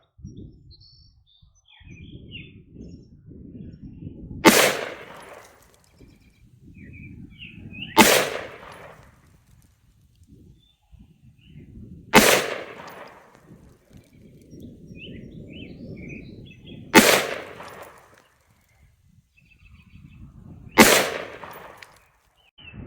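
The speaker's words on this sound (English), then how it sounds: "We're going to shoot 4 5-shot groups." Five loud, sharp rifle shots from a Diamondback DB-15 fired at targets 25 yards away, spaced several seconds apart with low handling rustle and background noise between each crack.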